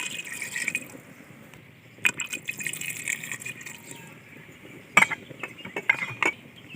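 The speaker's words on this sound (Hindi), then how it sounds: "ये यहाँ पर हम इसमें 2 गिलास पानी के डालेंगे" Water being poured from a glass into a pot of ojri (tripe) gravy with green chillies, giving a soft steady liquid fill punctuated by a few sharp clinks of glass or utensil against the pot, fairly close, with no talking.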